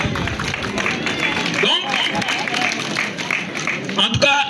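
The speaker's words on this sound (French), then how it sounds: "Si elles sont là, qu'elles s'applaudissent." A crowd applauds the mothers at a neighbourhood festival in Côte d'Ivoire, steady dense clapping under a loud, echoing voice over a public address system.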